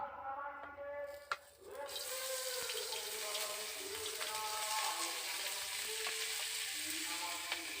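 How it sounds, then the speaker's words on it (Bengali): Potatoes and ivy gourd dropped into hot oil in a wok: after a quiet start and a sharp clatter, a loud, continuous sizzle sets in and holds steady, close up. "এবার আমি দিয়ে দেব আলু আর কুঁদরি যে কেটে রেখেছিলাম সেটা দিয়ে দিচ্ছি"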